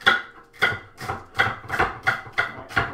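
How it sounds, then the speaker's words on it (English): A knife chops celery on a board in steady strokes, about eight crisp, evenly spaced cuts, close and moderately loud, with no voices. "we're gonna go to cut the celery"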